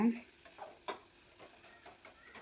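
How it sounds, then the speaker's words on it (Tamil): Chicken pieces for pepper chicken are turned over in a pan with a spatula, giving a few soft scraping and stirring strokes over a faint background sizzle, close up. "சிக்கனை போட்டு நல்லா ஒரு பெரட்டு பெரட்டிட்டு எல்லா இடத்துலையும் படுற மாதிரி நல்லா பெரட்டி விடுங்க"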